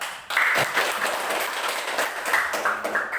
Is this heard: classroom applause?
yes